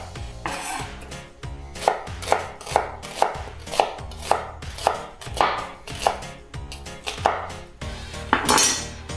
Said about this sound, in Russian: Итак, лук я режу полукольцами.